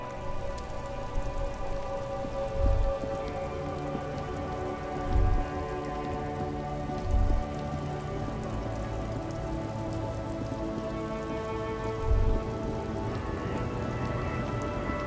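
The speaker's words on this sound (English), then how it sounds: "stuck in the rain" Steady rain falls in the Disco Elysium video game world, a constant wash of drops on surfaces, with a few soft low thumps breaking through at intervals.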